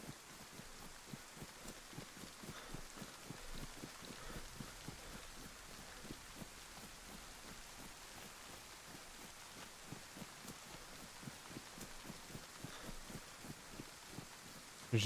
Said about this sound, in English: it's always nice running around in the rain in DayZ and just chilling out